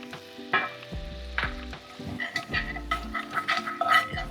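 Liquid in a pan sizzles and bubbles steadily as it reduces after seared chicken, close up, with occasional spoon clicks and stirring scrapes over the continuous frying hiss.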